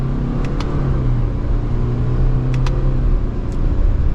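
A 2024 Subaru Crosstrek engine, heard from inside the cabin in manual mode from second gear, pulls with a steady low rumble and whir that builds gently under acceleration, with a few faint clicks over the top.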